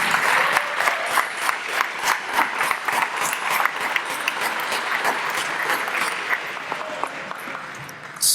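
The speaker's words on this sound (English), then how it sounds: "if all the senators could stand up and get a round of applause" Applause fills the room for the senators standing at a Boys State closing ceremony, a dense, steady clatter of many hands that holds throughout and tapers slightly near the end.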